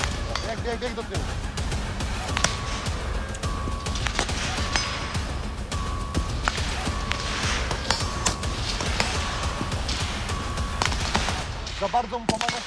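Rapid gunfire cracks out continuously during an infantry shooting drill at a training exercise, dense and loud, with shouted voices mixed in throughout.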